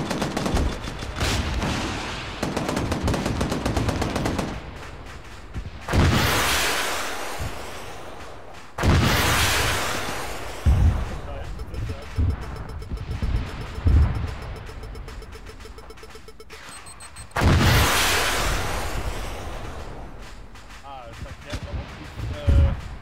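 Loud bursts of missile explosions and gunfire in the video game ArmA 3 boom in repeated waves, with a roaring background between blasts and people talking over the combat sounds.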